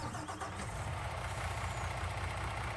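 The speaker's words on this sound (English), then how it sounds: "make sure we got our game volume turned up so you guys can hear the engines pretty well" A vehicle engine idles in Farming Simulator 19, a steady low rumble that holds at an even level throughout with no voices over it.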